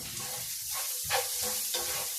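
Ground turmeric hitting a hot pan while cooking paneer jalfrezi, a soft steady sizzle with faint stirring scrapes, close and quiet with no talk.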